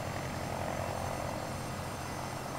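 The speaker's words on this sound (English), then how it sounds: "Eric, do you see this plane?" An airplane flying past in Saints Row 2, a steady droning engine roar with a low rumbling hum, fairly faint and continuous with no voices.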